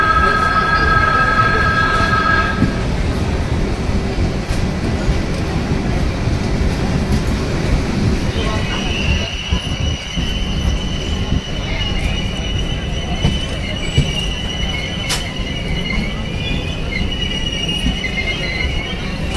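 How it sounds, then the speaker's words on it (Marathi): A Tejas Express train on the Konkan Railway rumbles steadily from inside the carriage as it pulls away from Ratnagiri station, wheels squealing and a high whine rising over the constant low roar. "ट्रेन पाच मिनटाच्या हॉल्टिंग नंतर आपण रत्नागिरीवरून निघालो आहोत"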